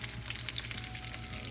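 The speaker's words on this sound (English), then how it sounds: "On our chicken sizzling in the olive oil." Steady crackling sizzle of chicken frying in hot olive oil, close up and continuous, with no voices.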